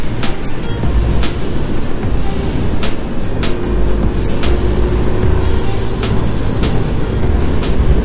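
A Mio Soul scooter on Corsa tires rides at speed, with steady engine hum and strong wind rush roaring over the whole stretch, loud and continuous.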